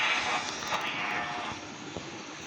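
A motorcycle engine gives a steady, fairly loud broadband roar close by, holding an even drone through a short stretch, with a brief faint voice.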